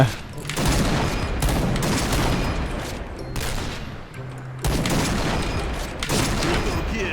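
Sniper gunfire in a Point Blank shooting game: loud, booming shots with a rolling, dense texture, arriving in several long bursts separated by short lulls.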